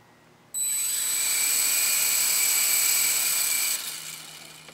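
Blade mQX quadcopter motors spin up on throttle with a sudden, steady high-pitched electric whine that holds for about three seconds, then winds down and fades, heard up close with no talking.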